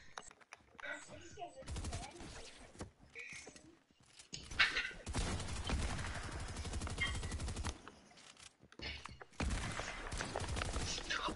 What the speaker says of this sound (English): No one shoot him! Bro, stop shooting him!